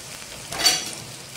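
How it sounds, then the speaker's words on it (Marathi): Two medium chopped onions going into a pan for mutton curry give a short soft sizzle that swells briefly and then settles to a quiet background hiss, with no talking. "त्यानंतर याच्यामध्ये टाकायचे आहे कांदा. 2 कांदे कापलेले आहेत मी, मीडियम साईजचे."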